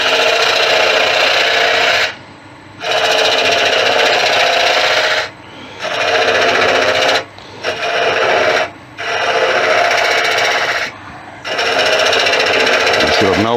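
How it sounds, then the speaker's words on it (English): Wood lathe spinning a Monkey Puzzle branch while a spindle gouge cuts it, making a loud continuous rasping whir broken by several brief pauses where the cutting stops. "now I'm going to take out the rest of that with the spindle gouge."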